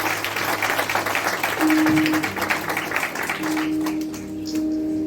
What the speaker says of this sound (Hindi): आइए उसके जलाल के लिए जोरदार तालियां, जो हमसे प्यार करता है।